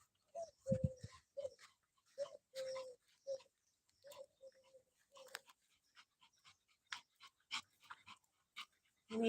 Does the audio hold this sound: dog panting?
yes